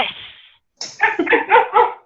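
A dog barks in a quick run of about four or five loud, close barks, preceded by a softer whine-like sound and a brief pause.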